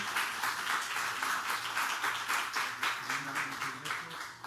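Audience applause after a medical panel talk, a soft, continuous patter of many hands clapping, fairly faint and distant, with a low murmur of voices underneath.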